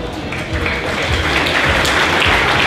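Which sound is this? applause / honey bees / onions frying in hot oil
applause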